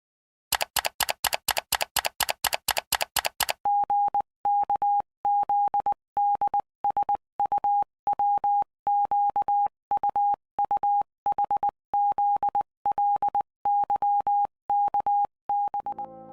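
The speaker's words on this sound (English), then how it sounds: "This new encrypted ciphertext would then be transmitted via Morse code over radio" A rapid clatter of typewriter-like key strikes gives way to a steady series of beeping tones in short and long bursts, clean and close.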